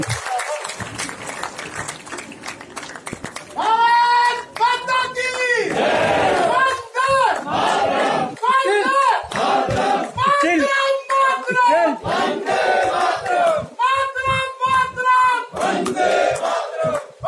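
A large crowd at a BJP political rally roars with loud, sustained cheering and chanted shouts mixed with applause, in repeated waves that follow a quieter opening.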